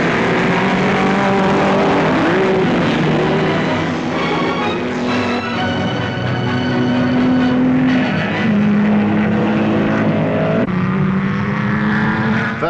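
BRM racing cars at a Daily Express race at Silverstone roar continuously, loud and close, engines rising and falling in pitch as they pass and shift gears, with no talk.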